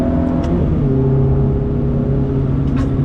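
A Ferrari F430's engine revs hard under acceleration, a deep, throaty, resonant roar that holds loud and steady throughout with no one talking.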